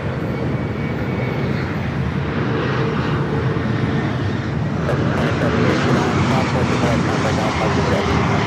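A Delta airliner at Los Angeles airport, jet engines roaring steadily and swelling slightly louder over the span, with air-traffic radio voices underneath.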